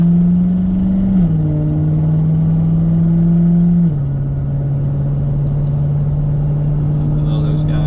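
A Ferrari 458 engine drones at low, steady revs, with a small step down in pitch partway through as it settles into an even, loud rumble.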